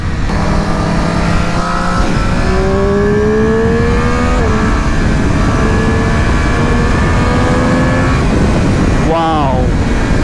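A 2020 Triumph Street Triple RS motorcycle in sport mode accelerates hard through several gears, its high rising engine note climbing and dropping at each shift, loud and close from the rider's position with wind noise.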